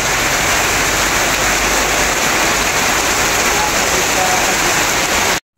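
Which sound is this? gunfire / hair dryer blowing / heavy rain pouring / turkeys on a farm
heavy rain pouring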